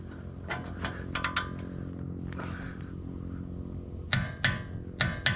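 A torque wrench tightens the four bolts of a lower ball joint on a 1996-2002 Toyota 4Runner to 59 foot-pounds, giving sharp metallic clicks in short bursts over a faint mechanical background.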